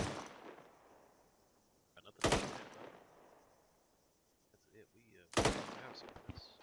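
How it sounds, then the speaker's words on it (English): Loud, isolated shots fire in a military simulation video game, with about three sharp cracks spaced a few seconds apart over quieter background sounds and faint radio-like chatter. "Bravo 1, keep firing."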